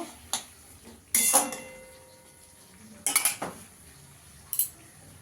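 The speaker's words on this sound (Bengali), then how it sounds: "আলুটা দিয়ে ভালো করে একটু কষিয়ে নেব।" Potatoes being stir-fried in a pan of spice masala, with a few scattered metal clanks and scrapes of a spoon against the pan, fairly faint and spaced apart.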